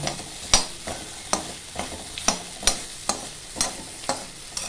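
Okra being stir-fried in oil: a regular series of spatula strikes and scrapes against the pan, roughly two per second, over a soft, constant sizzle, close and clear.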